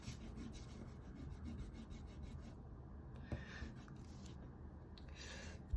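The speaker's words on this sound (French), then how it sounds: "On va prendre une gomme." An eraser scrubs back and forth across a pencil drawing, a faint, close, continuous dry rubbing with small scratchy variations and a light tap near the end.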